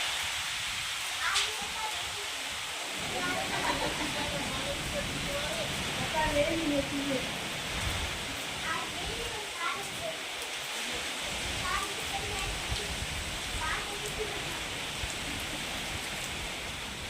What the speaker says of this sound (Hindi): और कैसे झूम रहे हैं पेड़, हवाएं तेज चल रही हैं।